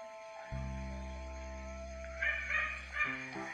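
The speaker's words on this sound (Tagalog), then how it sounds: "may aso pa, kaya sorry na lang ha sa ingay" A dog vocalizes outdoors near a tomato garden, a close, loud drawn-out tonal cry followed by a few sharper bursts toward the end, with no talking.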